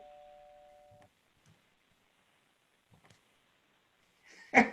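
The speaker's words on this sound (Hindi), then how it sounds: "पता नहीं फिर घंटी बज रही है।" A single electronic doorbell chime rings clearly at the start, followed by near silence with a few faint soft knocks and a brief noise at the end.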